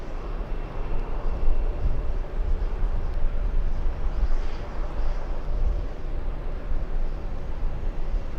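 British Airways airliner arriving at an airport, a steady broad engine roar that holds throughout with a rumbling low end and faint whine, fairly loud, with no talking.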